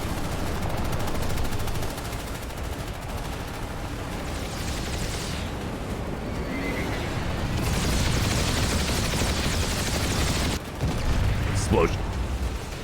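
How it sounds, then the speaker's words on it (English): Rapid sustained laser weapon fire during a large battle in Planetside 2, dense and continuous with layered shots and rumbling over a game commentator's voice. "Just look at these lasers."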